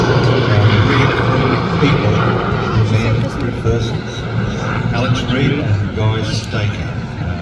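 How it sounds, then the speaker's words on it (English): A Sea King search-and-rescue helicopter flies at the Midlands Air Festival air display, its engine and rotor drone rumbling steadily beneath loud public-address commentary. "this Sea King is a medium lift utility anti-submarine search and rescue airborne and transport"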